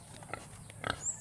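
Grunting oinks from a roughly 100-kilo pig at a pig farm in Quezon province, two short close bursts over steady low farm noise.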